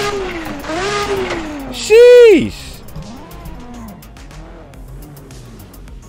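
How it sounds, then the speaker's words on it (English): A loud JDM street car engine in the racing game Assetto Corsa revs in one sharp, rising burst that drops away quickly. Softer engine drone runs before and after it, and someone talks over the sound. "This car is low-key loud."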